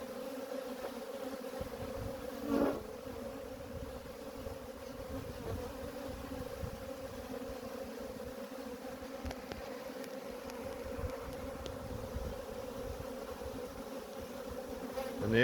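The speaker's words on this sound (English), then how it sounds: "We've got bees fanning the Nasanov glands, and all the rest are just starting to march on in." A honeybee swarm hums steadily as the bees march into a hive, some fanning at the entrance, with close, continuous buzzing and a few louder passes of individual bees near the end.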